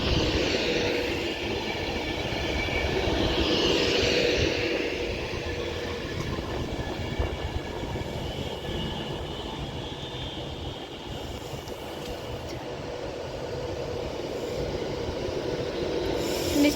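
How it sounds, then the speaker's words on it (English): An 11-coach Class 390 Pendolino electric train arrives at Wigan North Western station with a steady, rising rumble and rolling wheel noise. Faint squeals come through over the long, continuous roar. "This will be a 11 coach class 390 Pedalino this time."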